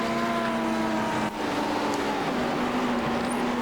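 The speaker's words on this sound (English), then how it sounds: "The big grunting sound of the Mercedes." A Mercedes GT3 race car in iRacing at Imola drones with a steady, grunting engine note, holding a sustained pitch close by with a brief dip midway.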